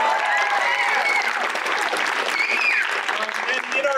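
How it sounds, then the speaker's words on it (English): A storytelling showcase audience applauds a performer, with dense, steady clapping filling the room at moderate loudness for several seconds. "Now, yes, give her a round of applause."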